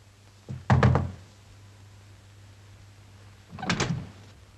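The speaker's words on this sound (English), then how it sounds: "I heard your knock." Two separate clusters of sharp knocks on a door, each a quick group of raps, close and fairly loud in a quiet room with a low hum.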